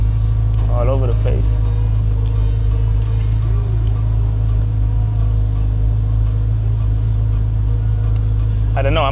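C8 Corvette Z06 on the road, a steady loud low engine drone and rumble filling the cabin with no distinct revs, while someone talks over it briefly.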